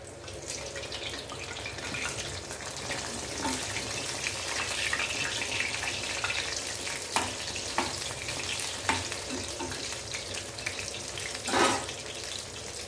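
Onion and urad dal bonda batter fries in hot oil, giving a steady close bubbling sizzle with occasional sharp scraping clicks from a ladle, and no one speaking.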